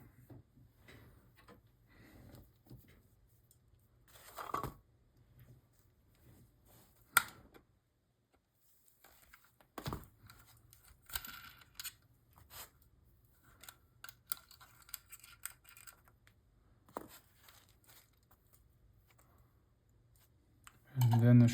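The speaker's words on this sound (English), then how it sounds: "let's go ahead and remove the winding lever" Small metallic clicks and scrapes come in scattered bursts as the winding lever of a Nikon FM camera is worked loose, close and quiet, with long near-silent gaps between.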